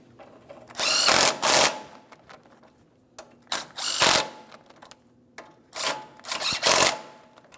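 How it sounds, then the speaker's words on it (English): Ratchet wrench tightening 17mm bolts on a 2003-2008 Toyota Matrix front ball joint, heard as three separate bursts of rapid ratcheting clicks with short quiet gaps between them, fairly close and loud. "we're going to start by tightening our 17mm bolts"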